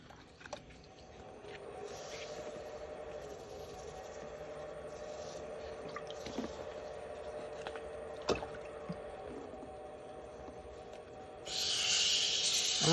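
Resin workpiece being wet sanded with 360 grit on a lathe at around 600 RPM, a steady low whir and soft hiss running throughout with a few faint knocks, and a louder broadband hiss rising near the end.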